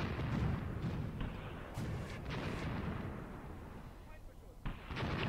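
Machine guns firing in the war game Graviteam Tactics, heard as bursts and thumps of distant gunfire and explosions, fairly faint, with scattered sharp cracks over a rumbling battlefield background.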